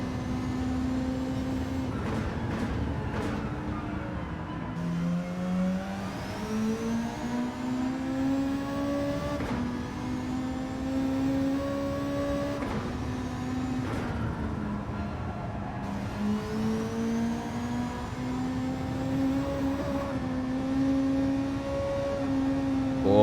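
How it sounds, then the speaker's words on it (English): A Volkswagen Beetle racing in a Gran Turismo Gr.3 league round at Lago Maggiore revs hard as it climbs through the gears, the engine note rising and dropping again at each shift, loud and continuous. "we'll listen to the power of this Beetle"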